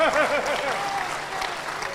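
Audience applause at a Hindi kavi sammelan poetry gathering, a steady dense clatter of clapping over a short stretch, with a voice talking through its opening half.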